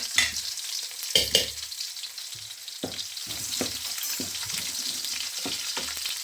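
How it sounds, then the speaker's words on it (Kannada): Crushed garlic frying in hot coconut oil in a pan, a close steady sizzle broken by several sharp spatula scrapes and stirs, no talking. "ಇದಕ್ಕೀಗ 1 ಗಡ್ಡೆ ಜಜ್ಜಿದ ಬೆಳ್ಳುಳ್ಳಿ ಹಾಕಿ ಚೆನ್ನಾಗಿ ಫ್ರೈ ಮಾಡ್ಕೋಬೇಕು."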